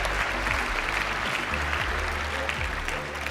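Steady applause from a large crowd in the arena at a Dota 2 esports major in Stockholm, continuous and loud throughout with no voices standing out.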